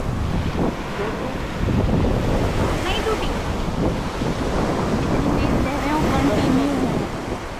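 Surf and wind at a beach in Pondicherry, a steady broad wash of waves with gusty wind buffeting the microphone, while people talk nearby throughout.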